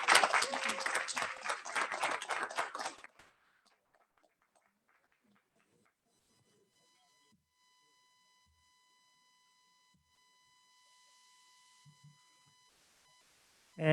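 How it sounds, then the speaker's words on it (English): Audience applause at a Rotary Club meeting, a few seconds of dense clapping that stops abruptly and gives way to near silence with a faint steady tone. "Another round of applause."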